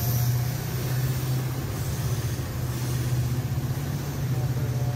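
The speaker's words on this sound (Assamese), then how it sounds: "একেলগে দুখন ট্ৰেইন হৈছে সেইকাৰণে মানে জ্বালাটো হৈছে" Two trains passing together near the Balaji temple area in Guwahati, a continuous low rumble with a steady hum and faint rattling that stays level throughout, with no voices.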